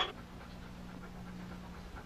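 A pet dog named Casey pants steadily and close by, soft rhythmic breaths running through the whole moment with no talking over them.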